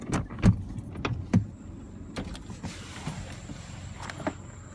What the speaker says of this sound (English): Keep the car running.